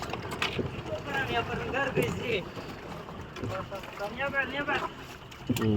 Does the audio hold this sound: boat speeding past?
yes